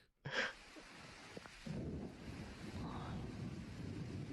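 A thunderstorm rumbles low and diffuse after a brief sharp onset, with steady wind-like noise and possible rain hiss filling the background; no voices are heard.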